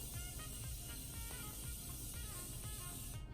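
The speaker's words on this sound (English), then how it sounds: "I'm gonna now take the Morphe Continuous Setting Spray." Morphe Continuous Setting Spray misted onto a face, a steady, faint, continuous hissing spray lasting a few seconds with soft rhythmic pulses underneath.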